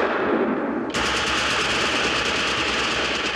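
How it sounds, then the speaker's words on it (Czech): Sustained machine-gun fire from a Czech feature film bursts in abruptly after a short quiet stretch and rattles on loudly and continuously, with a dense, rapid texture and no voices. "tady se střílí"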